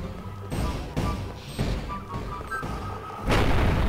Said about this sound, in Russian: Какой-то слабый взрыв.